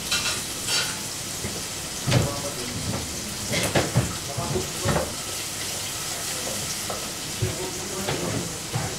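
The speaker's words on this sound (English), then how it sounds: "spices in hot oil. To this we add chopped or sliced onions." Onions sizzle in hot oil with spices in an Indian curry pan, a steady fry hiss broken by scattered stirring scrapes and clinks, fairly quiet and close.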